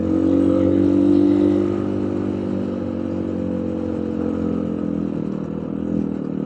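A cheap street-legal 250cc dirt bike climbs a hill, its engine droning steadily close by with a louder rev at the start, then settling into a lower, even pull with faint clatter.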